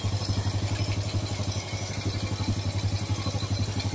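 A motorcycle engine idling steadily with a deep, rumbling, pulsing beat, close and loud, with no talk over it.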